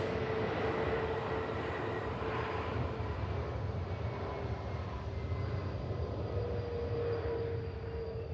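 An Airbus A321neo inbound from Krakow touches down at Manchester Airport, a steady loud roar of jet engines with a broad rumbling wash throughout.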